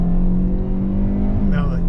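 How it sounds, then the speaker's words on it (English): A 2023 Kia Soul EX with a 147-horsepower engine and CVT accelerating, a steady, loud engine drone that rises slightly in pitch near the end, heard from inside the car. "give it some gas here"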